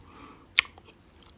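Bites and chews into a soft cherry-filled coconut cake with a crisp outside: two sharp crunchy bites a moment apart, close and dry, with small quiet chewing sounds between.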